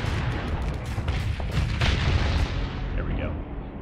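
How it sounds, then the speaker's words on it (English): A burst-fire laser weapon in the space combat game Starsector fires in dense rapid volleys of booming, crackling shots that overlap into a continuous barrage, close and loud with no speech. "a burst-fired, super powerful laser that just crushes when used well"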